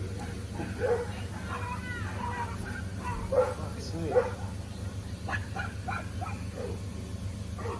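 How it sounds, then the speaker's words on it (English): Dogs bark a few times in the distance over a constant low hum, the yelps short and scattered. "More dogs."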